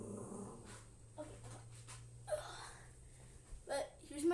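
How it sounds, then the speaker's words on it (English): A dog growls low and gives soft whimpers nearby, in quiet, uneven bursts over a faint steady hum. "But here's my dog."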